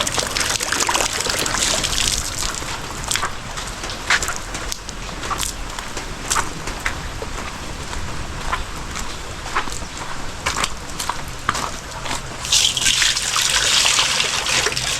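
Water trickles and splashes steadily as it is poured out for pigs to drink, close and continuous, with scattered knocks and footsteps and a louder gush near the end.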